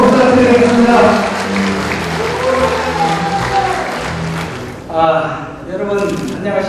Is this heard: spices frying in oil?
no